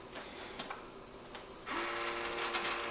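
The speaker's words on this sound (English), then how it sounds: "My vacuum sealer, which is a food saver, is set for gentle moist." A FoodSaver vacuum sealer set to the gentle moist mode starts partway through, its steady motor hum and pump whine holding loud and close after a few faint ticks and clicks.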